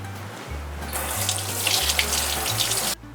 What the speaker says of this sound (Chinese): 所以你可以去洗一下。